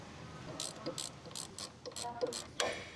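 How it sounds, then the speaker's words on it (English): A medium ratcheting wrench with a 7mm hex bit socket tightens a brake caliper guide pin on a 2011 Mazda 3, giving a series of quick clicking ratchet strokes, close and moderately loud over faint background noise. "Using the 7mm hex bit socket with the medium ratcheting wrench,"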